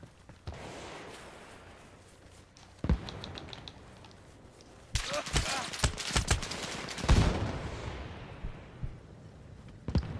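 Gunfire in the Arma Reforger video game: scattered sharp shots and bursts, some distant and some closer, irregular cracks over a quiet background with no talk.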